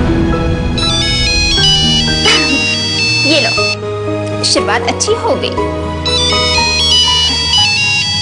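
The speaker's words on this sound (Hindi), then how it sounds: "इसका फोन आ गया।" A mobile phone ringtone plays a looping electronic melody loudly and close by, with a voice talking over the middle of it.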